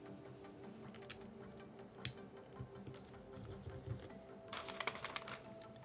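A TX60 mechanical keyboard with PBT keycaps is typed on, with faint, irregular clusters of soft clacky keystrokes at close range, some sharper taps standing out, and no talking.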